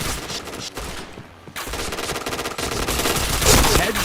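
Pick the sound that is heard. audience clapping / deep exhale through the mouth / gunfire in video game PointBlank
gunfire in video game PointBlank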